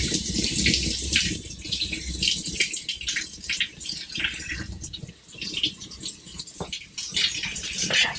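Running water from a tap while bathing a large cat, a loud, steady close rush and splash against a sink or tub, continuous throughout with no talk.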